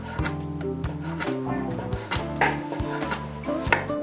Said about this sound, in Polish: Po czym kroimy w drobną kostkę.